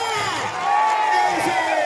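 Massed crowd voices shout and cheer at an assembly election rally in Man-Khatav. The noise is loud, continuous and close, with no pause across the short stretch.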